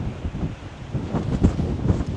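Strong gusty wind batters the microphone in low rumbling surges at the Acropolis of Rhodes, Greece, swelling and easing without pause.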